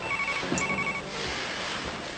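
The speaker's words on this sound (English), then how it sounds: "just get the phone." A telephone rings indoors, a steady electronic bell tone that stops after about a second, followed by room noise with no talk.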